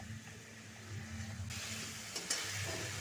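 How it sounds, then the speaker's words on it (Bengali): Spice paste and oil frying in a pan for a cauliflower and prawn curry, a steady close sizzle that grows brighter and louder halfway through, with occasional stirring scrapes. "দেখুন কষানো হয়ে এসছে তেল ছাড়তে শুরু করেছে"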